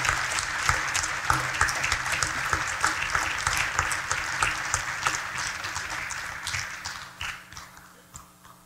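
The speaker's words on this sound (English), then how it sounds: "Let's give one more round of applause for both Coach John Milholland and for the entire Hall of Fame class" An audience at a high school Hall of Fame ceremony applauds, dense continuous clapping that carries evenly for several seconds before tapering off toward the end.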